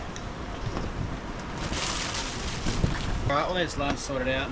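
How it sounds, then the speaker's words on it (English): Strong wind gusting hard around an off-road camper trailer campsite, a steady broadband roar with rising gusts running throughout while someone talks over it. "the wind's picked up pretty crazy here and it's blowing pretty hard"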